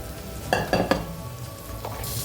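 Pre-cooked rice tipped into a hot frying pan for egg fried rice, heard as a few close scraping, rustling thuds over a steady low sizzle, with no talking.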